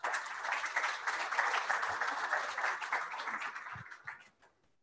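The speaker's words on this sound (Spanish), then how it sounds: "Demos la bienvenida con un fuerte aplauso al ingeniero Aguilar" An audience at a technical talk on cadmium in cacao gives a speaker a welcoming round of applause, lively, close clapping that holds steady and then thins out to a few last claps before fading away.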